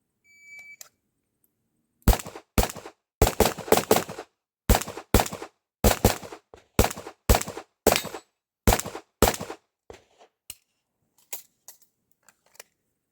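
Handgun shots fired during IPSC Production Division training, about twenty sharp reports in quick pairs and short strings across a course of fire, preceded by a brief start beep and ending with a few fainter shots.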